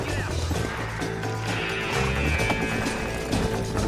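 Horse hooves gallop in the Western video game Red Dead Redemption, a continuous rhythmic clip-clop of several riders heard loud and close under a busy mix of music and ambience.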